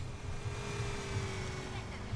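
A car engine in GTA San Andreas hums as a steady, even drone at moderate level with no clear changes.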